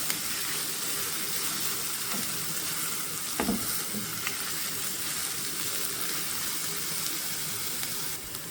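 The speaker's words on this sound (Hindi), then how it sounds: "ये भी मैं इसमें शामिल कर दूँगी और प्याज़ों के साथ हम इसको फ्राई करेंगे" Garlic cloves and onions frying together in a pan for Pakistani mash daal give a steady, close sizzle that holds evenly throughout, broken by a brief clink of a utensil partway through.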